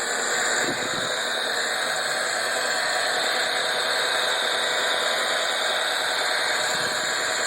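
A rotary polisher buffs oxidized gelcoat on a boat's flat panels, whirring continuously at a steady, slow pitch, loud and close, without pauses.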